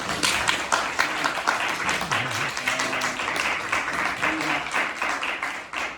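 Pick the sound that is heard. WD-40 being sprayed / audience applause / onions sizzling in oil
audience applause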